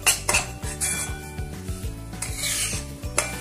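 Semolina is stirred and roasted in ghee in a pan for prasad shira, with rhythmic metal spoon scrapes and clinks against the pan repeating steadily, close and clear, over a faint sizzle.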